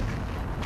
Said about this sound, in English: Is the bullet bill cannon.